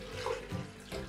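About 700 ml of water pours into the glass bowl of a Zepter Artmix Pro, a short, soft, steady splashing trickle with no voices.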